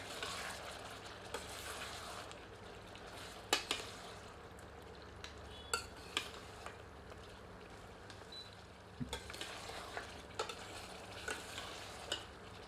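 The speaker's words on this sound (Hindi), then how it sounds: "इसे मटन में मिलाकर 2 से 3 मिनट मध्यम आंच पर भूनते हैं।" Mutton fries with ginger garlic paste on medium heat, a soft, steady sizzle broken by scattered scraping clicks of stirring, quiet and close.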